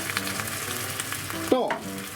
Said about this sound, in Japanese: それでこの根菜類も炒めときます。